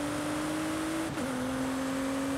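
A Bugatti EB110 engine drones in the Forza Horizon 4 racing game, a steady high-pitched hum with a brief dip as the gear changes, alone and constant throughout.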